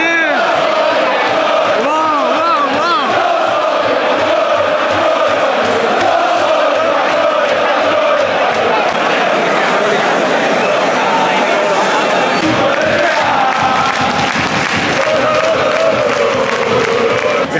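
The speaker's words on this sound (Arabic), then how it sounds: "هاي صوت الجمهور داخل الملعب، هاي داخل الملعب الجديد" A large football crowd roars inside a new stadium during a Clásico match, the dense chanting and cheering filling the space continuously and loudly, with rhythmic chant bursts and someone speaking over it.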